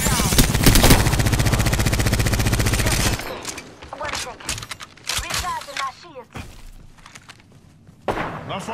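Rapid automatic gunfire from Apex Legends rattles loud and dense for about three seconds, then gives way to scattered thuds, footsteps and softer impacts, with a final burst of shots near the end.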